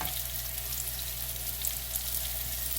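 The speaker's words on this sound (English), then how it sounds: "I'm gonna go ahead and turn the heat off on my stir fry" Shredded cabbage sizzles in a stir-fry pan, giving a steady, even crackle with a low hum beneath it, moderately quiet and unbroken by speech.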